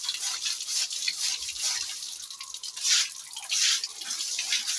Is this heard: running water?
yes